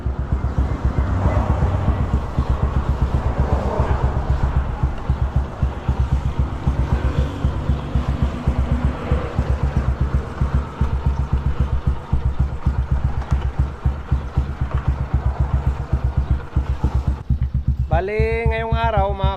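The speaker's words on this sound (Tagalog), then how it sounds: "Pinapainit na natin yung makina ni Mia" A motorcycle engine idles while warming up, a steady rapid thumping pulse close by that keeps an even rhythm throughout, with a brief tonal sound near the end.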